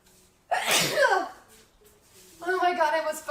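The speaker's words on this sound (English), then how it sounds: "I have sneezed." A single loud, forceful allergy sneeze bursts out close to the mic. A voice speaks a moment later.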